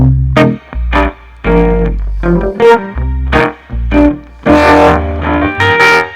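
Heavily distorted electric guitar through an amp simulation in Ableton Live 12 played in choppy rhythmic bursts, each chord swelling into a harsh, buzzing feedback-like sustain before cutting off.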